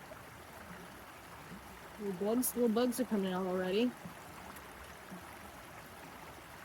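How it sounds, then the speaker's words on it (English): A steady, soft broadband wash like a flowing stream runs throughout, with a person speaking briefly over it midway. "The sound of the water is so nice."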